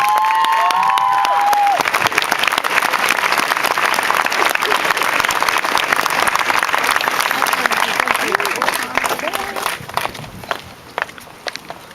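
An audience claps after an eighth grader's graduation speech, loud and sustained for several seconds before thinning and fading near the end, with a few voices and cheers mixed in.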